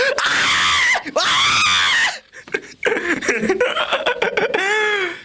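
A voice imitates loud, shrill screaming in long sustained bursts, followed by a rising and falling squealing cry.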